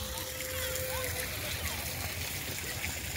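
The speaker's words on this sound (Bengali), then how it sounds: "হাতটা গ্রিন হাত করেছে, আর সেখান থেকে জলটা পড়ছে ঝরঝর করে" Water pours steadily from a green hand-shaped fountain at a restaurant park, giving a continuous splashing rush while people, including a child, talk nearby.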